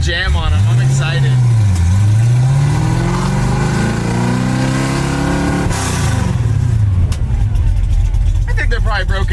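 A 1967 Ford Mustang with newly upgraded large brakes drives along, its engine rising and falling in pitch before easing off as the car coasts, with someone talking over the steady road and engine noise.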